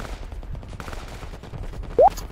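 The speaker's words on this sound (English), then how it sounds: "You guys are shooting at each other." Gunfire from friendly players trading shots in the tactical shooter Project Reality on the Saaremaa map, a dense run of rapid cracks and bursts with one sharper shot near the end.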